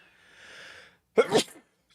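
A single close, loud sneeze bursts out after a stretch of faint background hiss, with quiet air afterward.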